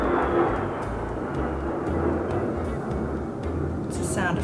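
An airplane flies overhead, apparently circling low over a house, producing a continuous low, rumbling roar that stays fairly steady and loud throughout.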